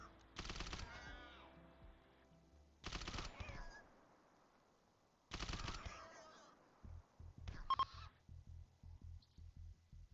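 Three loud bursts of video game gunfire separated by pauses, followed by a quick series of short sharp pulsing shots near the end, with no talking.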